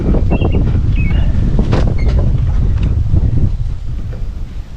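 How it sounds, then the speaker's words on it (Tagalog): Loud, strong wind buffets the microphone at a hilltop view deck in Aguilar, with a heavy, continuous roar that eases slightly near the end; no one speaks. "Ang lakas ng hangin dito mga tropa"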